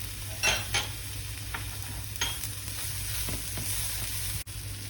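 A spice mixture of black pepper, paprika, Arabian spices and coriander powder stirred in a hot pan, a soft continuous sizzle broken by several light scraping strokes spread across the stretch, with no talking.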